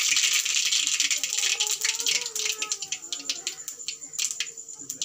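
Mustard seeds splutter in hot oil for a puliyora tempering, giving a close, dense crackle of rapid pops that thins into sparser, sharper snaps.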